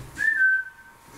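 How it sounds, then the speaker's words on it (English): A single sustained human whistle calling a dog, fairly loud and close, holding one steady pitch for about half a second before trailing off. "He's whistling like a shepherd to his dog."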